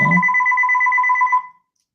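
A Microsoft Teams phone call ringing in, one short clear electronic tone lasting about a second and a half, loud and close, then silence.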